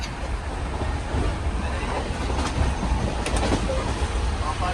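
A moving train heard from inside the carriage gives a steady, loud rumble and rattle that runs through the whole stretch, with no clear voices above it.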